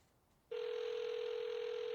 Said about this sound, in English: No one expects to be called on the landline.